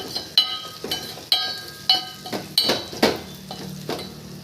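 Thorny nightshade gravy stirred in a pot with sambar powder, a metal spoon scraping and clinking against the pot in a steady rhythm of about eight strokes over soft sizzling, close and alone.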